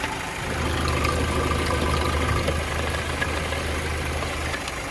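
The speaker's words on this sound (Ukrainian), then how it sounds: "Робота двигуна." A 2004 Opel Zafira's engine idles steadily with a low, even rumble that stays constant throughout, close by and with no voices.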